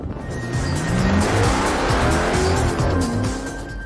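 A racing car recorded for a video game on an airstrip runway, engine revving with pitch sweeping up and down while tires squeal and skid, loud and sustained.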